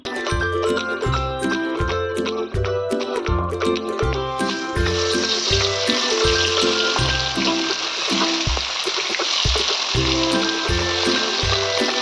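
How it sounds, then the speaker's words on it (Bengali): Boroli fish deep-frying in hot oil gives a steady hiss and sizzle that grows denser partway through, running beneath loud, rhythmic background music with a thumping beat. "বাকি মাছগুলোকেও এরকমভাবেই লাল করে ডিপ ফ্রাই করে ভেজে আমি তুলে নেব"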